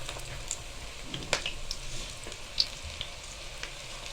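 Small pakora fritters, Chinese style, frying in hot oil with a soft steady sizzle and a few light pops and clicks, fairly faint, with no voices.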